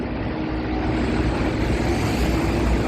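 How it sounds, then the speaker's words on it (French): A steady, broadband roar of an airplane flying over London, continuous and moderately loud with no talking. "Et un avion."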